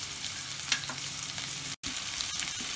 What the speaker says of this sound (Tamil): எடுத்து வச்சுருக்கிற ஆனியனை நல்லா ஃப்ரை பண்ணிக்கலாம்.